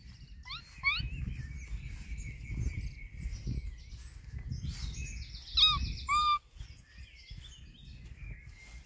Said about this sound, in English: Why do the birds make chirping sounds?